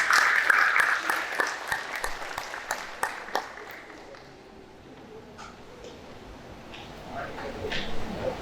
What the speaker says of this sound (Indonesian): Berikan tepuk tangan yang meriah sekalian.